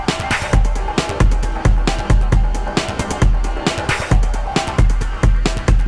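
A drum machine plays a steady beat with slightly humanized hi-hats, punchy kicks and snappy hits repeating in an even loop, loud and close with nothing else over it.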